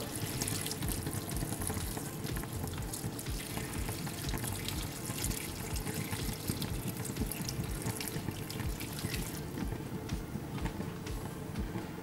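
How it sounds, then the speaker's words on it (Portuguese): Water pours steadily into a cooking pot holding cabbage on the stove, a continuous broad rushing splash for the whole stretch, close up and with no talk. "Vamos agora acrescentar água"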